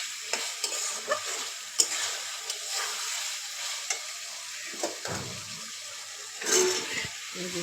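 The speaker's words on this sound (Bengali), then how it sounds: "এর ভিতরে কিছু আলু দিয়ে দেবো, ভালো করে একটু কষা নেব" Beef and potatoes being stir-fried in a pan, with steady close sizzling and frying hiss broken by scraping stirs and occasional sharp clinks of a utensil.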